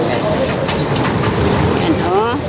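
An MRT train at a Kuala Lumpur metro station on the Sentul Barat–Titiwangsa route gives a steady, close rumble of rolling wheels and clatter for a few seconds, with faint voices mixed in.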